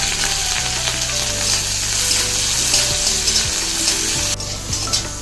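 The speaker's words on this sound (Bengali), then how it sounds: "তেল গরম হয়ে গেছে, পেঁয়াজ আর লঙ্কা কুচি দিয়ে দিলাম।" Onion and chopped green chilli sizzling in hot oil in a pan, a steady loud crackling fry with faint stirring that continues throughout.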